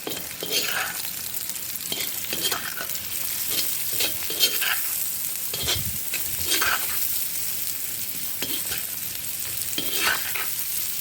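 Vegetables for Ukrainian borscht frying in a pan, a constant close sizzle with repeated scraping stirs of a utensil against the pan.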